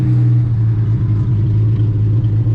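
A rusty Triumph TR250 that had been sitting for forty years is driven with its engine running, giving a loud, steady, droning rumble with a strong low hum and no voices over it.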